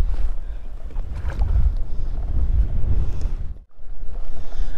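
Strong wind buffets the microphone on a Central Minnesota lake while smallmouth bass fishing from a boat, a loud continuous low roar with water lapping, dipping briefly near the end and then returning at full force.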